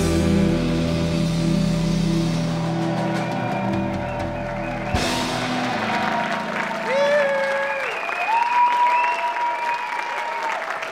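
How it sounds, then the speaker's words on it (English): Sustained applause from a crowd at a Celtic song contest, loud and steady at first, then tapering off as a few voices and musical tones come through. "Give them a big well applause."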